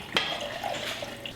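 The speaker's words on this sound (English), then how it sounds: "So I'm gonna go get some water." Water runs from a tap into a container, a short, soft trickling stream with a faint splash at the start.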